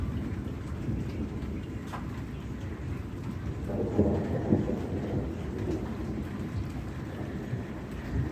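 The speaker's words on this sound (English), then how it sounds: "it's a lot, and I mean a lot of lightning" A thunderstorm brings steady heavy rain with deep rolling thunder rumbling through it, a broad continuous wash that swells briefly in the middle.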